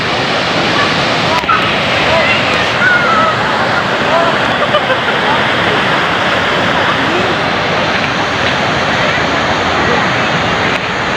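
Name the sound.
seaside beach with waves at low tide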